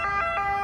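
An ambulance siren passes in a street, its steady wailing tone loud and clear for a brief moment with no voices.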